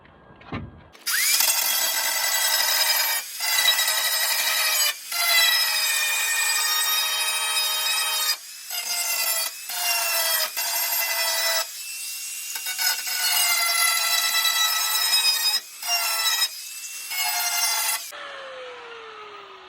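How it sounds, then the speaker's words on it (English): An angle grinder works down tack welds during a Toyota rust repair, whining loudly and close in long sustained passes, with several brief breaks between bursts and the tone dropping as it spins down at the end. "Though it looks like I got them, just need to grind them down."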